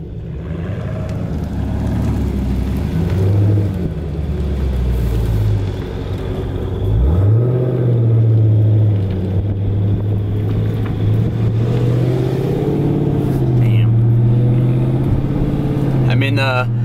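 A Dodge Scat Pack engine accelerates from inside the car, a deep drone climbing in pitch through a strong pull and holding a loud, steady note, with people talking over it.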